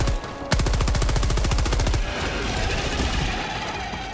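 An automatic sentry turret in Helldivers 2 fires a rapid, loud, steady burst of gunfire up close, then the shots blur into a dense roar of sustained fire and rumbling impacts.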